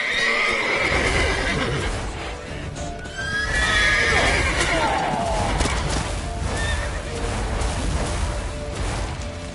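Horse neighing and whinnying in The Witcher 3: Wild Hunt, loud repeated calls over hoof clip-clop, crashing action noise and shouted voices throughout.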